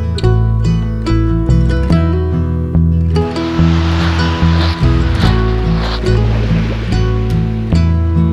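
Waves wash onto a deserted beach in Liguria, a broad hiss of surf that rises in the second half under loud, steady music that plays throughout.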